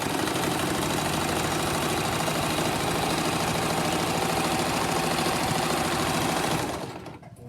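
Sewing machine running steadily while stitching fabric for a simple face mask, a continuous rapid mechanical whir and needle chatter lasting about seven seconds before stopping abruptly, with no talking.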